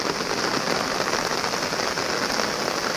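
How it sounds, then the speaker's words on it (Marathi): Heavy rain pours steadily, a dense, constant hiss of drops hitting surfaces with no pauses and no voices. "भरपूर पाऊस आहे"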